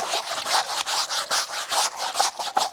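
A stiff brush scrubs a doormat with a hibiscus-flower pattern, making quick, regular rasping strokes that repeat steadily and close up, with no talking.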